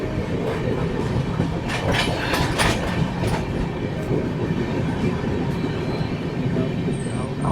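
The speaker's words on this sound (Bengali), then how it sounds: "ট্রেন এই মুহূর্তে রায়গড়ে ঢুকছে।" Howrah Ahmedabad SF Express running into Raigarh: a steady, loud rumble of train wheels and carriages with rhythmic clickety-clack, continuous throughout with no pauses.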